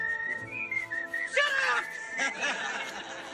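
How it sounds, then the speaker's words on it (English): Inmates whistling a Mozart melody in a prison scene from the 1987 film Superman IV: several voices carry a clear, bright tune together, with chuckling and chatter breaking in midway, moderately loud. "The idea of the inmates whistling Mozart back to Lex Luthor, we thought would be fun."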